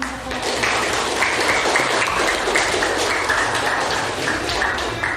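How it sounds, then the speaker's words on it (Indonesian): A school class claps together, steady and loud, with many hands beating in a continuous dense patter that holds evenly throughout, with a faint voice underneath. "sekarang sama-sama kita tepuk tangan"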